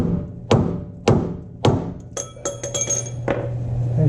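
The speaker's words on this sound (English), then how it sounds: "So we'll just bang on it with a hammer." Hammer blows ring out against a stuck steel drag link on the pitman arm of a Ford F350 front end, four sharp metallic bangs roughly half a second apart, followed by lighter clinks and rattles as the part loosens.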